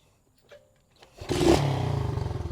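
A 110cc pit bike engine starts up after a couple of faint clicks, then revs loudly and steadily up close with a pulsing, throbbing rhythm as the ride begins.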